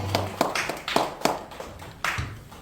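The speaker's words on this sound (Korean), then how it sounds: "우리를 구원하신 그 주님께 영원의 박수를 올려드리겠습니다" A scattered burst of clapping from a youth worship service congregation, a few sharp irregular claps rather than a full ovation, close and moderately loud with no voices over it.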